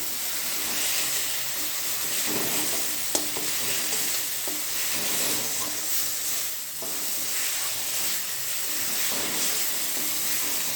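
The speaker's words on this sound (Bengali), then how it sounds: "কষানো হতে হতে আমি এর মধ্যে ভেজে রাখা আলুগুলো দিয়ে দেবো" Spices cooking with fried potatoes for a vegetarian alur dom make a steady, fairly loud sizzle with occasional spatula scrapes and a single sharp clink, close up and without speech.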